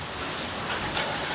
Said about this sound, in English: Welcome to the storm and the rain.